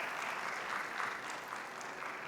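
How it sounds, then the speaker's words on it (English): An audience at a formal anniversary opening ceremony applauds in a dense, steady wash of clapping that holds at an even moderate level throughout. "So please give Tun a round of applause."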